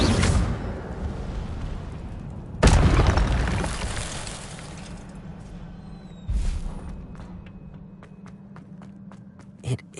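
Incendio fire spells cast in Hogwarts Legacy burst out as loud, sudden whooshing blasts, three of them spaced several seconds apart, with a steady low hum, faint footsteps and small clicks between.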